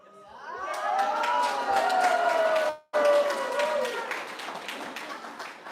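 An audience at a talk event breaks into cheering and clapping, with a long drawn-out whoop gliding over scattered hand claps. The noise swells, cuts off briefly, then continues and gradually fades.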